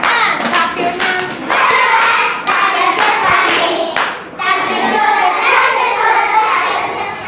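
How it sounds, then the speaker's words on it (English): Children clap their hands in a classroom during a motion song, a dense patter of many small hands in several bursts with brief pauses between, close and lively. "And clap your hands."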